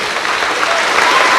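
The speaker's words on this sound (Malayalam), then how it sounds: "ഒന്ന് കൈയടിച്ചെല്ലാവരും" An audience at a church sermon breaks into dense, steady applause, close and continuous throughout.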